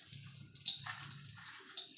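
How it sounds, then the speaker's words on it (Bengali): Torn dried red chilli dropped into hot mustard oil sizzles steadily, a continuous bright crackling hiss with small pops throughout, close and fairly loud, while a Bengali prawn and bottle gourd leaf paste dish is being cooked. "তেলটা গরম হয়ে গেছে। দিয়ে দেবো একটা শুকনো লঙ্কা ছিঁড়ে।"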